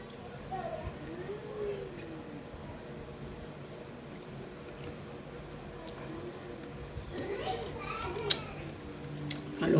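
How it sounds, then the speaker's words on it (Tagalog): Children's voices and play carry faintly in the background of a quiet indoor room, a steady low murmur with occasional louder shouts rising near the end. "Maingay mga bata."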